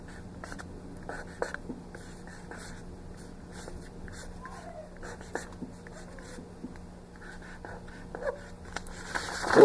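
A pen scratches out graffiti-style lettering on paper, close and faint, with short irregular strokes and taps over a quiet room hum, and no voices.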